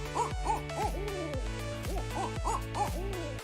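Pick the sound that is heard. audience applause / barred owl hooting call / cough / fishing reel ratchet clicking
barred owl hooting call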